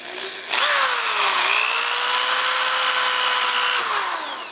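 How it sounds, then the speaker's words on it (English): A power drill drills holes for mounting a Harley-Davidson tour pack, whirring loudly and steadily, its pitch rising at the start and dipping mid-run before winding down near the end. "Go ahead and drill."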